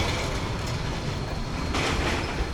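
The Cannonball Express, a classic roller coaster at Pleasurewood Hills amusement park, rumbles past as a loud, steady roar of wheels on track that swells briefly toward the end, with no voices.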